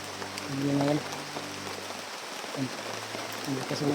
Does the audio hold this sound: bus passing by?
no